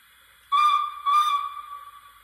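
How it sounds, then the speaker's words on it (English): Two short, shrill whistle blasts from the DCC sound decoder of a Rapido Trains model Hunslet 16-inch 0-6-0 saddle tank steam locomotive, close and clear against a quiet background, the second trailing off slightly longer. "Option five is two blasts."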